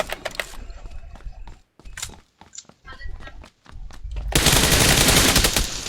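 Rapid bursts of gunfire in the PC game PUBG Lite, fired from the hip, crackle in short volleys between brief gaps, and a louder dense stretch of fire follows near the end, with faint voices in the mix.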